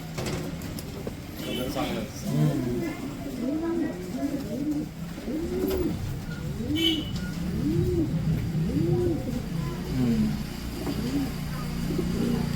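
Racing pigeons coo in a steady run of soft, low, rolling calls, close by, with faint background noise and a few scattered voices.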